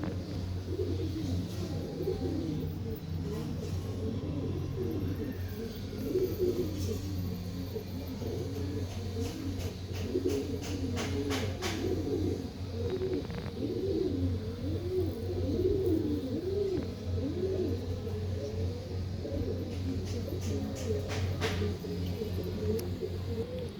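Pigeons cooing repeatedly in a loft, overlapping soft rolling coos close by over a steady low background hum, with occasional faint clicks and no talking.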